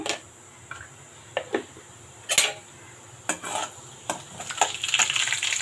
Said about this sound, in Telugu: టూ స్పూన్స్ ఆయిల్ అయితే వేసుకున్నాను ఫస్ట్ నేను ఒక స్పూన్ జీలకర్ర వేసుకుంటున్నాను